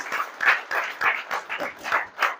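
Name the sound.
audience applause at a marketing workshop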